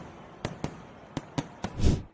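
Fireworks burst at the Yanshui Beehive Fireworks Festival in Tainan, Taiwan: five sharp, loud bangs spaced irregularly, then a longer crackling rush of explosions.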